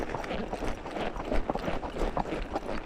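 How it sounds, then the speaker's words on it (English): A horse trotting along an endurance-riding trail, its hoofbeats giving a steady, fairly close clip-clop rhythm over a busy background for a few seconds. "trotting down the trail on your horse"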